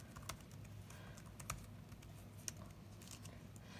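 A computer keyboard typed on to enter a username, quick irregular clicks of keys at a fairly quiet level in a faint room hum.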